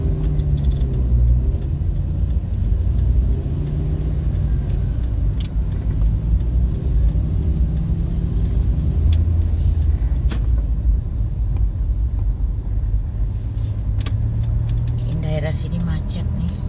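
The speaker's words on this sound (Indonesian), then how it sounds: "Sini macet nih." Jammed road traffic rumbles steadily, with idling engines, passing cars and a bus-like drone under continuous talk, plus occasional sharp clicks.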